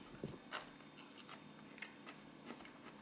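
Biting and chewing crunchy Butter Crunch jackfruit flesh, a few faint close crisp crunches spaced irregularly in a quiet room.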